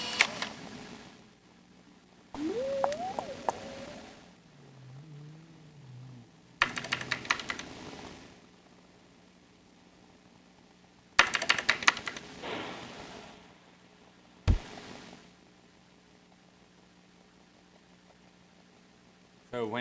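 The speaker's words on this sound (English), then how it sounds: "you can see his avatar is typing" An avatar's keyboard typing sounds in the Second Life virtual world, with clattering keystroke bursts alternating with stretches of quieter talk.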